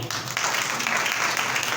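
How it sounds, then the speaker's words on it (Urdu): Applause from a church congregation at a Urdu-language sermon, a dense steady wash of clapping lasting the whole short stretch, with faint voices underneath. "زوردار تالیاں"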